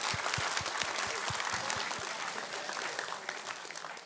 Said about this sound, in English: So I want to applaud you guys as a class overall.